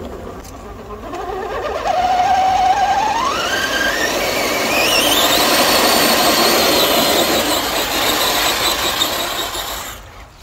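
A Hobbywing Fusion Pro 2300kv brushless motor in an RC crawler revs up at wheel speed, its loud electric whine rising steadily in pitch over several seconds, then holding high before cutting off.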